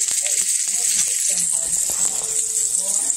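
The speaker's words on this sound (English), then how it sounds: "I'm going to sear this ahi tuna for my salad" Ahi tuna searing in hot coconut oil in a pan, a loud steady sizzle with crackling pops, close up, continuing throughout with a person talking over it.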